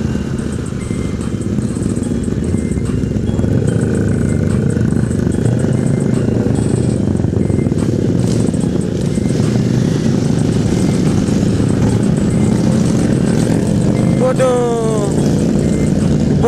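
Several motorcycles including Harley-Davidson, Aprilia and Ducati machines riding past at a Satmori gathering, a steady loud engine drone throughout with traffic noise, and a brief horn-like tone near the end.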